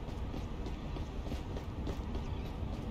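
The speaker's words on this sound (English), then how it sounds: "Is it the subway? They said they fixed the subway." A subway train passes in the Police Simulator game with a steady low rumble and faint rhythmic clatter of rail wheels, heard at a moderate distance and without talk.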